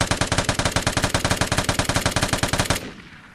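A Vigor LMG light machine gun in a video game fires one sustained, evenly paced automatic burst of loud, punchy shots for under three seconds, then stops abruptly, leaving a fading echo.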